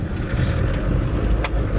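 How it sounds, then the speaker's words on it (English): An overland expedition vehicle laboring in soft sand at high altitude in La Puna, Argentina, a continuous low engine drone under wind buffeting with a brief higher-pitched swish near the end. "The sand's just got really soft here, which doesn't help. The engine's having to"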